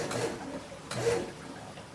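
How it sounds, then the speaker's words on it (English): The empty pump of a carpet cleaning machine with a diaphragm pump cycles on as water enters the tank, giving two short muffled thumping bursts about a second apart over a low background hiss, with no talk. "And that's the sound of your empty pump that you hear there."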